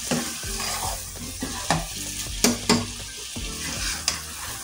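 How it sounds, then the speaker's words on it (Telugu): Drumstick pieces sizzle in hot oil for an egg curry, a steady crackling fry broken by occasional scraping stirs of a spatula in the pan, close and fairly loud with no talk. "రెండు నిమిషాలు ఇట్లా ఆయిల్లో ఫ్రై కానివ్వండి, ఆ మునక్కాయ ముక్కలు కూడా బాగుంటుంది అన్నమాట."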